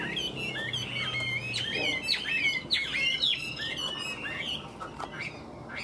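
A hwamei songbird in a cage sings a lively series of varied whistles and chirps, fairly close, over a low background hum.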